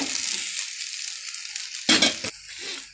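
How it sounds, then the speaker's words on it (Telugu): Fried potatoes stirred into aloo kurma in a pan, with a steady sizzle of frying throughout and a brief louder burst of scraping and clatter as the spoon works through the mixture. "ఆలు వేసి కలిపానండి ఒకసారి"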